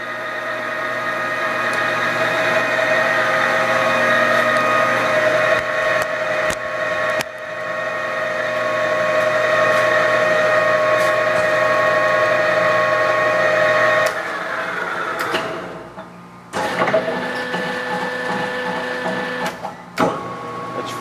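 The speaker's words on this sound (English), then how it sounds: "There's your cross feed. Now your in feed. Feeding back the other way." A Leblond Makino 15 x 54 inch servo shift lathe runs with its feed engaged, giving a steady loud mechanical whine with layered tones that shifts pitch as the feed changes direction, with brief clunks.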